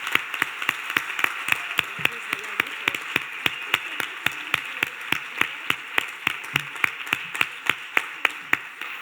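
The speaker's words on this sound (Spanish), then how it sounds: "pido un aplauso para esta mesa por el respeto y el compromiso al tiempo" An audience claps for a conference panel in an even, regular rhythm of sharp hand claps, moderately loud and alone, sounding like a modest crowd in a hall.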